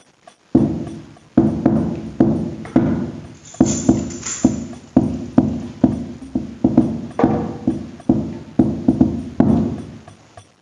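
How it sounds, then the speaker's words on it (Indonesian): A deep hadroh bass frame drum is struck in a steady rhythm, about two beats a second, each hit booming and decaying, with no voices. "Ya, itu suara misalkan bassnya aja."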